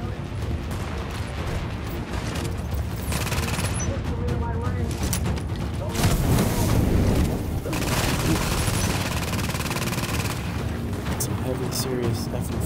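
Heavy, continuous gunfire and explosions roar through a video game dungeon fight in Hudson Yard, dense and loud throughout, with voices talking over the barrage.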